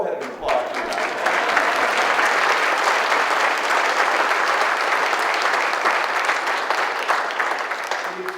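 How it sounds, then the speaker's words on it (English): Sustained audience applause at an exhibit event, a loud, dense, even roar of clapping lasting several seconds without a break. "Go ahead and applaud for that."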